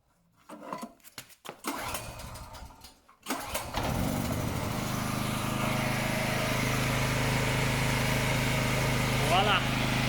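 Small generator engine with a newly fitted kill switch, preceded by a few seconds of handling clatter and clicks, then firing up and settling into a steady, loud, droning run close by.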